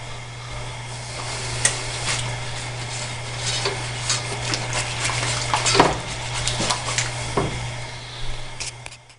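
Gravy simmers and lightly sizzles in a pan for a breakfast, while a utensil scrapes and stirs it in irregular strokes over a steady low hum, close and moderately quiet.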